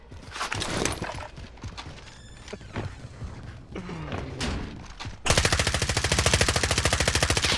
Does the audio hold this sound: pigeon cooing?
no